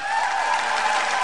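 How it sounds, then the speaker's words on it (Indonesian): The audience at an Akademi Fantasia season 6 concert applauds and cheers, a loud, continuous wash of clapping from a large crowd with no gaps. "Tepukan untuk Aida Narina."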